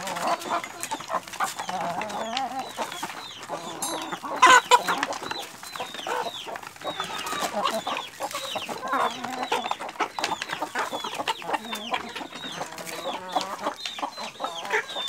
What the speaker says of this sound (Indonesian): menyenangkan sekali pada saat kita memberikan makan ayam kemudian yang dikasih makan itu semuanya datang berkumpul